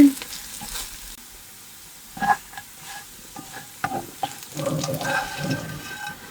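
Food fries in a pan with a soft sizzle broken by scraping stirs, clanks and bursts of spattering, growing busier toward the end.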